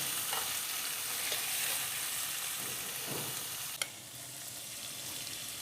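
Pieces of chicken tikka fry in hot oil with a steady, bright sizzle throughout, close and continuous, broken by a few soft stirring clinks and one sharp tap near the middle.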